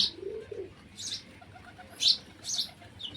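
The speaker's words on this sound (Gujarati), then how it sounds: "આપણા કબૂતર બધા આવી જશે નીચે" Pigeons at a rooftop loft give a low, soft coo near the start, then several short, bright chirps at intervals, close by and clear over a quiet background.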